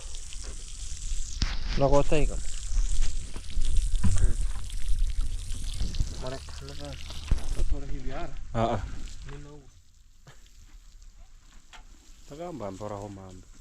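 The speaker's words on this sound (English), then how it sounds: "we are pouring water here. We are using this water can or a jerry can" Water poured from a jerry can during village house building, a steady splashing pour with broadband hiss, interrupted by several bursts of people talking nearby.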